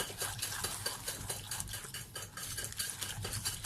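Egg yolks, vanilla sugar and powdered sugar are beaten together in a bowl with a utensil, giving a brisk, continuous rhythm of scraping and clinking strokes close by.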